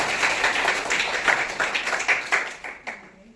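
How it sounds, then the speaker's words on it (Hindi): Students clap together in a classroom, a burst of brisk, fairly close applause that thins out and fades over a few seconds, with no talking. "ताली बजाओ"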